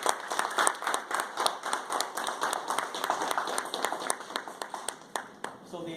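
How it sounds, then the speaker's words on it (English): A workshop classroom audience applauds for about six seconds, the claps dense and fairly close at first and thinning toward the end, with some voices mixed into the clapping. "So can we all give each one of us a good round of applause?"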